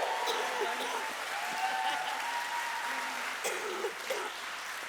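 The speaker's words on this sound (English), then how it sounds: "Please give this woman a much bigger round of applause, Fiona Broadfoot" A conference audience at the FiLiA 2021 Sunday opening gives soft, sustained applause heard at a distance, with scattered cheering voices rising over the steady clapping.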